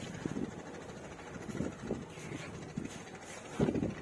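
Wind blowing off the Buriganga river gusts against the microphone in soft, uneven bursts, with a faint low background rumble.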